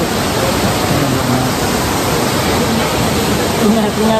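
Steady, dense rush of Namaste Falls in Nepal, a continuous broadband roar of water heard from nearby, with faint voices talking underneath.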